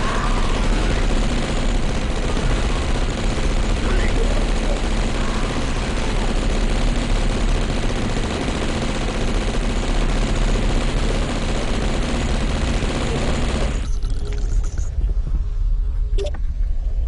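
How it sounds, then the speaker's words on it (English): A Tommy gun in the video game Blood fires continuously in a loud, dense automatic stream. It keeps going for most of the stretch, then cuts off abruptly near the end, leaving a few faint clicks. "now I have to use the Tommy gun"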